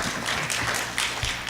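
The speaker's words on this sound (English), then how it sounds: "How many people, by your applause, would support creating a registry voluntary to keep track of our fat kids?" A conference audience applauding in response to a show-of-hands poll, a dense burst of many hands clapping through the whole short moment, fairly close and loud.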